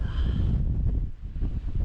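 Wind buffeting a microphone on the moorland hilltops of Derwent Edge, with a heavy low rumble and gusty roar, continuous and loud outdoors.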